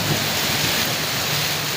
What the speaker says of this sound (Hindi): फिर से रात वाली बारिश शुरू हो गई है।